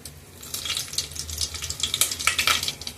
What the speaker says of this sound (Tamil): நெய்யும் எண்ணெயும் காய்ஞ்சிச்சு ஃப்ரெண்ட்ஸ் பட்டை இல்லாமல் இலனை போட்டுக்கலாம்